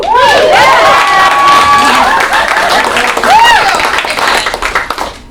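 A crowd claps and cheers loudly, with whoops and shouted voices rising over dense applause that fades near the end.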